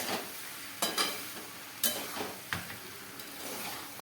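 Pasta with spices stirred in a pan, a low frying hiss broken by four or five sharp spoon-scraping strokes at an uneven pace, close and without speech.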